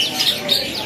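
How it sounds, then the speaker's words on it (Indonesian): A caged canary sings in a bird market, short bright chirping phrases over a busy background of other birds and a nearby voice. "pilihan burung kenari seri AF ataupun AFS yang sudah gacorannya"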